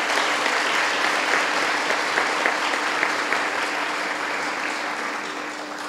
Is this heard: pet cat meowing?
no